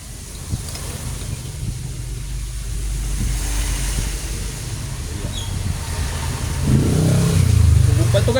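A washing machine motor being test-run during an appliance repair, with the motor's faulty, rust-covered housing noted; a steady mechanical hum runs throughout and swells louder near the end, with faint voices underneath.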